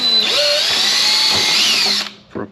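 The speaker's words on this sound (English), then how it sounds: "I'm going to drill one of these out right now" A power drill bores into a plastic rain barrel lid, its high whine running steady and loud for about two seconds before winding down, followed by a brief second burst.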